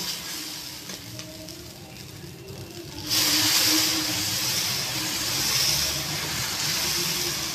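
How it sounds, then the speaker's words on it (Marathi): Dosa batter poured onto an oiled hot tawa after a splash of water sets off a loud, steady sizzle that jumps up abruptly and holds at a hissing level, following a quieter stretch of faint frying. "आता ह्याच्यावर डोसा घालूया"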